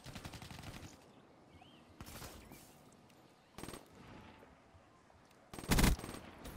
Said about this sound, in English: He killed me with a burst weapon.